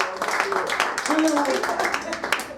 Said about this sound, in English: Round of applause to Fred, everyone.